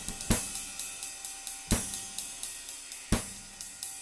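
A ride cymbal in a music mix is heard with no limiting, striking in a steady rhythm. Bright, ringing hits with hard attacks sit over a sustained shimmer, and a few stronger crashes stand out. No one talks.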